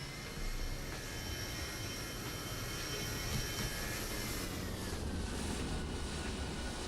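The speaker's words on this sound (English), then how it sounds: "Southwest is taking off." A Southwest airliner rolls for takeoff in Microsoft Flight Simulator 2020 at Denver airport, giving a steady, loud broadband engine roar with a rising whine throughout, no talk.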